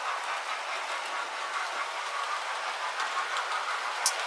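A Hornby N15 King Arthur class model locomotive running at half speed gives a steady, continuous mechanical whir and rattle, close and even throughout, with a brief sharper click near the end.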